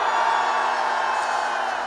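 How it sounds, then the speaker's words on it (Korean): A large outdoor rally crowd at a Korean political launch event roars in a sustained, loud cheer answering a speaker's call, a dense wash of voices holding for about two seconds. "전방을 향해 함성!"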